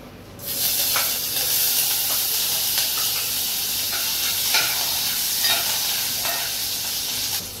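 Green chillies hit hot oil for Agri-style Maggi masala, setting off a sudden loud, steady sizzle and hiss after a brief quiet start, with a few scraping stirs punctuating the continuous frying.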